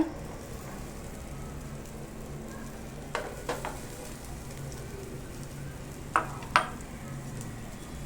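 Grated coconut and jaggery stirred in a hot pan over a low flame, a soft continuous sizzle with a few faint spoon scrapes and clinks against the pan, quiet and close.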